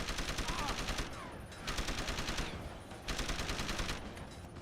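Submachine gun fire in the video game Deus Ex: Human Revolution: three long, rapid automatic bursts separated by short pauses, loud and close, with no talk over them.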